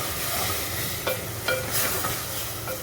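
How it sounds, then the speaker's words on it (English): Boiled chickpeas and spices are stirred in a hot pan, making a continuous close sizzle broken by a few brief scraping strokes of the spoon, with no one speaking. "you have to mix the chickpeas with the spices"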